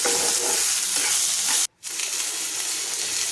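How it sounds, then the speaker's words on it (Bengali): Onion, capsicum and chopped tomato stirred in a hot pan, a steady close sizzle with scraping from the spoon, broken by a brief silent gap before the frying hiss resumes. "এবার আমি টমেটো কুচিটা দিয়ে দেবো নাড়াচাড়া করে নেবো"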